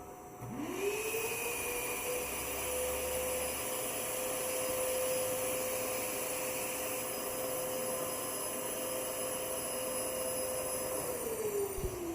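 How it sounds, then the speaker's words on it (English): A vacuum pump drawing air out of a bulk packaging bag gives a steady mechanical hum with a high whine that starts up and runs evenly for about eleven seconds, then winds down. It is close and constant, with no talking. "Next, you open the valve to the vacuum."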